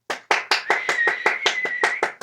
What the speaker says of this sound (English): She just heard the clap and came to me.